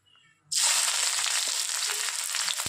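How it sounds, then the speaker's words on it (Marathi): Chopped onions hit hot oil in a pan with a sudden loud hiss after a short quiet moment, then a steady, dense sizzle continues close up. "तर कांदे असे चिरून घेतलेले आहे, ते आपण आता तेलामध्ये फ्राय करून घेऊ।"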